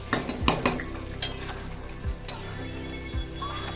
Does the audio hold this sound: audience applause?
no